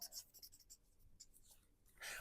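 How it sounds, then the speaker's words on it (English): A pencil scratches on paper at a desk with quick, light scribbling strokes in short bursts, faint and close, in a quiet setting. "now I'm getting my first pencil from the desk. It's going to look something like this."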